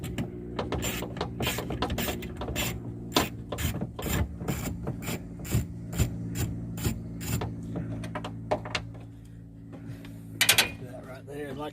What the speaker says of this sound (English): you take this nut off